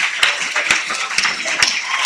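Church congregation clapping briefly after a sermon, a few sharp, uneven claps over a low murmur.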